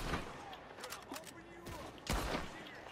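Gunfire from the Red Dead Redemption video game cracks out in a few sharp, quick bursts, heard at low level with one heavier shot near the end, mixed with brief talk.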